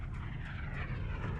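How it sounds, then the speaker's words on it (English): Fixed-wing airplane passing overhead in a movie scene, a faint, steady engine drone heard alone for a moment. "Or is it another plane coming down?"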